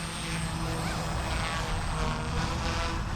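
Steady whirring rotor and motor drone of a small Blade 150 S radio-controlled helicopter flying nearby, continuous and fairly loud with a slight fluttering pulse.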